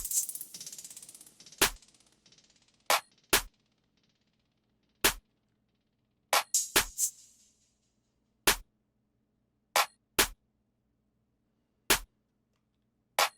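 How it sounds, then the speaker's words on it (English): Sharp, dry percussive hits from an ambient FL Studio beat, open hi-hats, accent snares and claps, land sparsely in an irregular pattern with silence between, a couple of them trailing a short bright hiss. "Last things I added were 2 open hats and then just some kind of like accent snares and claps"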